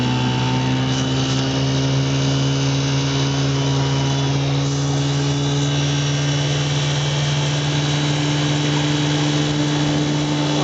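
A 1958 Johnson CD-15 5.5 hp outboard motor on a 12-foot boat drones steadily at close range, a constant buzzing hum with an even pitch that never lets up, with no voices.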